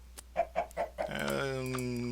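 A chicken clucking in a video game, four short close clucks followed by a longer drawn-out squawk, with a faint steady hum underneath.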